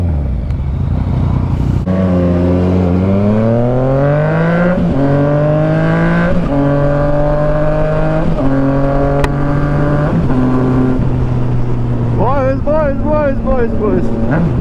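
Motorcycle on a hot-day ride accelerates through rising, wailing gear pulls, each shift stepping the pitch down, then a rapid series of crackling downshift blips near the end, loud and close with wind rushing throughout.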